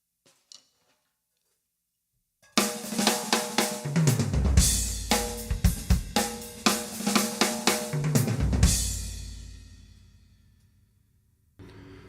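A drum kit rattles off a fast, dense fill of many rapid strokes with crashing cymbals, loud and close, ringing out to silence after a quiet pause at the start.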